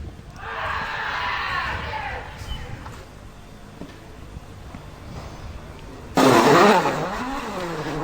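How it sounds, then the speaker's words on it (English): Rally car engine revving and passing at a World Rally Championship event in Spain, with a broadband roar that fades, then a loud, sweeping engine surge near the end, with a crowd or commentary murmur in the background. "World champion Sebastian Ogier has been successful in winning a preliminary round event of the World Motor Rally being held in Spain"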